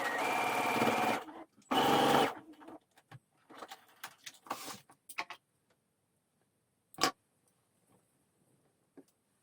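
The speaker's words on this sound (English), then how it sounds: "you can sew this with a straight stitch and that will give you a really neat top stitching line" A sewing machine stitches a hem on stretch knit fabric in two short, loud whirring runs near the start, followed by quieter ticks and clicks from the machine and fabric handling.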